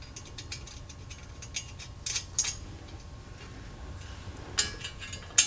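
Button head Allen bolts and nuts are fitted onto a KEMIMOTO center rack on a Honda Trail 125 motorcycle, with close metallic clicks, ratchet-like ticking and a few sharper clinks scattered over a quiet background.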